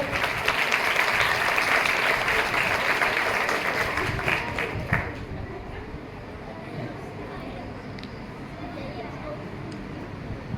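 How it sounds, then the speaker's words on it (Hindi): Crowd applause at a Hindi Diwas poetry recitation event, loud and dense for about five seconds before fading to a quieter murmur with a few scattered claps. "अच्छा लगा तो ताली बजाओ।"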